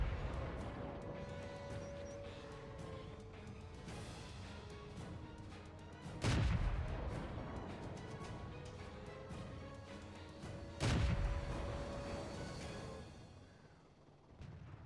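Two loud cannon blasts from a tank in World of Tanks ring out a few seconds apart over a steady engine drone, each a sharp crack with a low boom that trails off.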